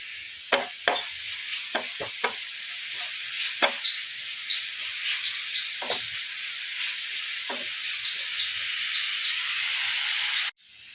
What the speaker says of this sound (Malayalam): ഞാനൊന്ന് പച്ചമണം മാറുന്നതുവരെ ഒന്ന് വഴറ്റുവാണേ